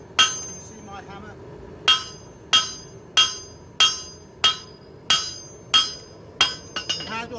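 A blacksmith hammers metal at a forge in about nine sharp, ringing blows, struck at a steady, unhurried pace and close by. The sequence ends with a few quicker, lighter taps.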